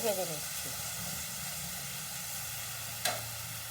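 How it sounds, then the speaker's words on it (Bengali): Prawns fry in hot oil for a pumpkin-leaf dish, giving a steady close sizzle that hisses on throughout, with a brief clatter near the end. "তেল গরম হয়ে গেছে দিয়ে দিচ্ছি চিংড়ি মাছ চিংড়ি মাছটা আমি একটু ভালো করেই ভেজে নেব"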